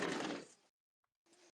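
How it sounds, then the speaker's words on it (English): A sliding back door rolls along its track, a short rough mechanical rumble that cuts off, then after a brief silence a second, quieter grinding burst, heard close with no talking. "My backdoor slider."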